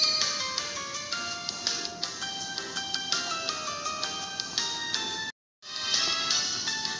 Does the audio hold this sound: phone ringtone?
yes